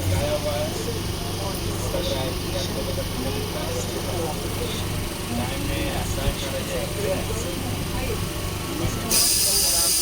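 Train rumble at Bandel junction, a steady low drone of rolling stock and engine noise that fills the whole stretch, with people talking over it and a brighter hiss near the end.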